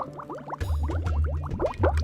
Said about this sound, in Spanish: Dejamos hervir el agua 30 minutos hasta que tenga un color vivo.